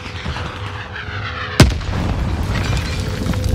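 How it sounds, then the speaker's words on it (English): A rocket launcher blast in an online shooter game, one sharp loud boom partway through followed by a sustained rumbling roar, over a steady background of game noise. "That rocket launcher."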